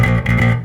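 Electric bass plays a snappy groove in one short, loud, punchy burst of low notes with a bright, slightly gritty edge.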